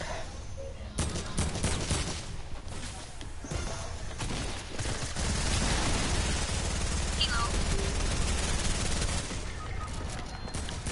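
Rapid bursts of automatic gunfire from a shooter video game pour out densely and loudly. Shots are fired almost continuously with crashing impacts, and players talk briefly over them.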